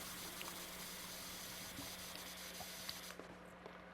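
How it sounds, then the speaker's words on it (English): A power washer in PowerWash Simulator 2 hisses in a steady, continuous spray as it blasts dirt off a surface, fairly faint with a low constant hum underneath and small clicks scattered through. "we're just going to switch over and try to spray this stuff off"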